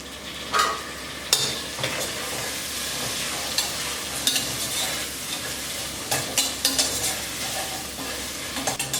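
Tomatoes sizzle in hot oil inside a pressure cooker for chicken biryani while a spoon stirs and scrapes the metal body in irregular close knocks over a steady frying hiss.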